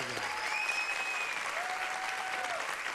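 A studio audience welcomes a guest with sustained, dense clapping at an even loudness, while faint tonal musical notes glide through in the background.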